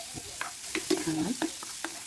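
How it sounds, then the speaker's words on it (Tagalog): Garlic, onion and bell pepper sauté in a pan with a low sizzle, punctuated by repeated scraping stirs and light utensil knocks, close and brief. "Ginisa na natin yung bawang sibuyas at yung siling lamuyo"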